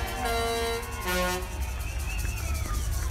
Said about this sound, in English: When I heard the honking, I was moved to tears.